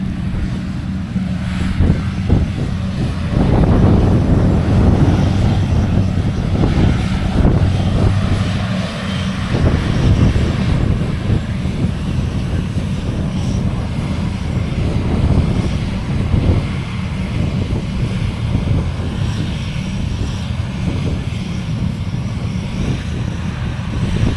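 A John Deere 6910 tractor engine runs hard during silage work in West Cork, a loud, steady low rumble with broadband roar and some wind buffeting on the microphone, continuous throughout with no voices.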